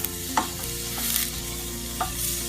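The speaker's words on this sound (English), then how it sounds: "And the onions, you can already hear they're starting to sizzle." Onions frying in a pan give a steady, soft sizzle throughout, with a few brief scraping stirs as they are moved around; no one speaks.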